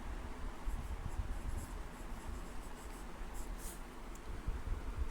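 Pen scratching on paper as someone writes by hand, a soft, close, continuous scratching texture with faint irregular strokes and no talking.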